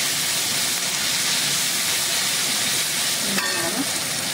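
Green chillies, ginger and fenugreek frying in a pan give a continuous bright hiss and sizzle while being stirred, loud and close, with a brief scraping clatter near the end and no talking.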